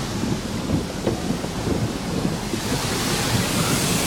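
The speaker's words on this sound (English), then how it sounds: "And there comes the high pressure rinse." High-pressure rinse jets spray a car inside a conveyor car wash, a loud, steady hissing and drumming wash of water that swells slightly toward the end, with no voices.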